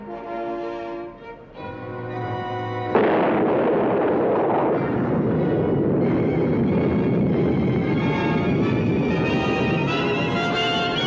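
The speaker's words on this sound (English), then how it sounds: "while one of them was dropping a bomb over here, the other one was dropping a bomb over there." Bombs explode continuously in a 1955 Hanna-Barbera cartoon, a loud, sustained roar of blasts and rumbling after a brief musical opening, with no talking.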